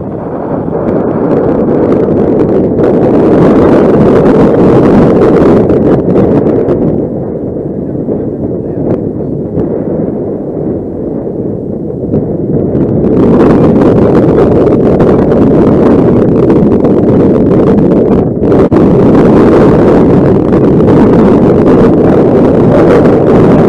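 Strong wind buffeting the microphone beside an Avios King Twin RC boat out on the water in very high winds, a loud continuous roar that surges and eases over the whole stretch.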